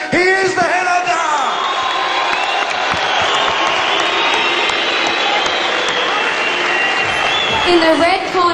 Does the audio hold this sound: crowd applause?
yes